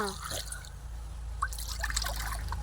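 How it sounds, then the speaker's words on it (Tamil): Water trickles and splashes into a pan while fish is being cooked, a short, close pouring sound over a low background hum. "தண்ணி ஊற்றிக்கலாமா"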